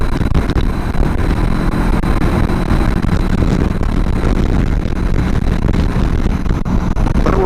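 A Honda CB500X motorcycle engine cruising at steady speed with somewhat high revs, a continuous low drone heard from the rider's position and mixed with constant wind buffeting, with no talking.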